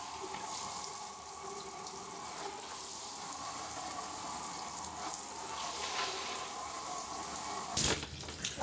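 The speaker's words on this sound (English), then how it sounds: "I run the hot tap and the cold tap as well." Hot and cold taps run together into a sink, a steady close splashing rush of water that holds evenly throughout, with a brief louder splash near the end.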